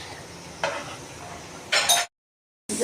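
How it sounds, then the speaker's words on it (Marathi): Dal and rice are stirred in a pot over sizzling oil for spinach masala khichdi, two short scraping bursts over a faint background sizzle. "डाळ तांदूळ टाकल्यानंतर आपण चांगलं मिक्स करून घेतोय"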